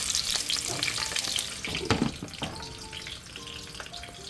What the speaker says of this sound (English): first we're starting with onions that we're going to caramelize.